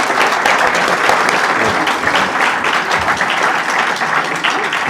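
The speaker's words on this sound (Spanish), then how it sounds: "estos aplausos son de cariño para ti" An audience claps continuously at a book presentation at the FIL 2025 book fair, a dense, loud applause that stays even throughout with no break.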